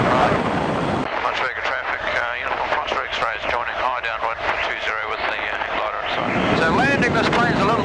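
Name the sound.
stunt plane engine in flight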